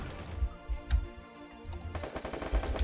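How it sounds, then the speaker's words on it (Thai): An M500 shotgun in a shooting video game fires a rapid run of sharp, punchy shots, loud and close, with a brief lull before another dense burst. "ระยะแบบนี้เราก็เอ็มห้าร้อยยิงก็ได้ครับ"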